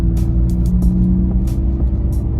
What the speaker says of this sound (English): We're gonna go ahead and rev match it into second gear